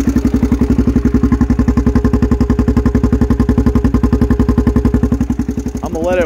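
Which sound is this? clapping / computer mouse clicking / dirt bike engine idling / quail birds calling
dirt bike engine idling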